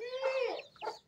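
A Thikra Aseel rooster, a non-Pakistani game breed, gives a short close cluck of two quick throaty notes, alone and clear against a quiet background.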